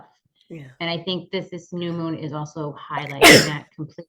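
A single sharp sneeze bursts out near the end of steady conversational speech, louder than the talking around it, followed by a few more spoken words.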